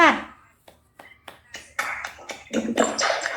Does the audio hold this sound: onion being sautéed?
no